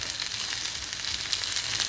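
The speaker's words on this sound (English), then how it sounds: "I'm frying some shallots and onions right now so that they can caramelize" Steady sizzling and crackling of shallots and onions frying in a hot pan, close and continuous, with no voices.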